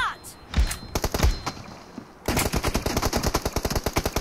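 Rapid bursts of automatic gunfire from a BGMI match during a drop-shot fight, starting with a few separated shots and then turning into a steady, close, loud stream of evenly spaced shots.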